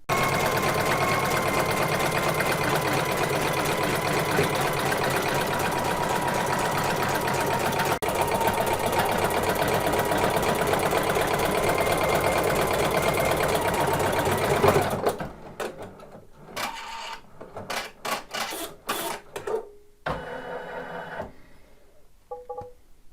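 Embroidery machine stitching a crazy quilt block, a steady, loud mechanical whir with a fast repetitive needle rhythm for most of the stretch, then stopping and giving way to scattered handling clicks and light bumps.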